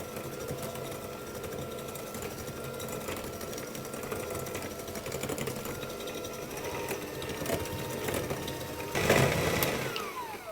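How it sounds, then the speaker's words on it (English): An electric hand mixer creams ingredients together for apple and almond tarts. It makes a continuous buzzing motor whir with a rattling texture, fairly close and steady throughout, with a brief louder surge near the end. "I'm going to use my hand mixer for this."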